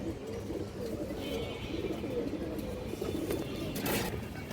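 Silver male pigeon cooing softly close by under a steady background hum, a few low throaty coos with no clear talk.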